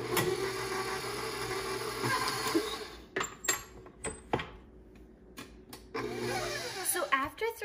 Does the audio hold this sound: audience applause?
no